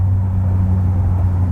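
A restored 1955 Chevrolet Del Ray cruises at 60 mph, its engine and road noise forming a steady low rumble that holds constant from inside the car, with no talk.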